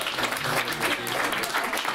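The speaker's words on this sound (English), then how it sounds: "A wee applause for Ethan" Wedding guests at a reception applaud with a warm, continuous wash of clapping throughout a short stretch.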